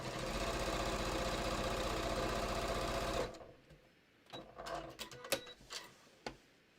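A sewing machine runs steadily for about three seconds, close and loud, while stitching a seam on a quilted batik floppy hat, then stops, leaving scattered small handling clicks and rustles.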